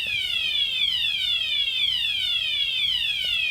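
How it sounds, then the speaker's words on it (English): A fire alarm sounds at the FIDE World Cup 2023 chess venue, a loud, steady run of repeated descending electronic sweeps that continues without a break. "What's happening? Fire alarm."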